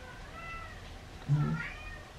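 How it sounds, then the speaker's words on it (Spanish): A cat gives a single short meow in a quiet room, fairly close and clear, rising briefly above faint background hiss. "Este gato lloró."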